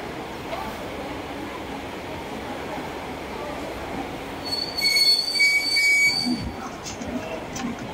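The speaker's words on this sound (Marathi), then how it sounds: "प्लेटफॉर्म क्रमांक 6 पर आई हुई लोकल 10:46 की मुंबई छत्रपति शिवाजी महाराज टर्मिनस जाने वाली तेज लोकल है।" A Mumbai local train pulls in at platform 6 of a station, its steel wheels giving a high squeal over a rumbling hum that swells midway, with an announcement voice under the noise.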